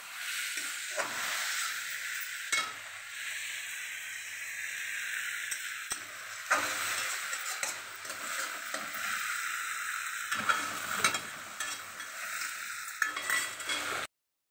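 Goat tripe curry cooks in a pan with a steady, close sizzling hiss, broken by occasional scrapes and knocks of stirring, and no voices.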